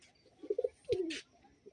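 A pigeon gives a short soft coo in a few quick pulses and then one longer drawn-out coo, close by and quiet against a faint background.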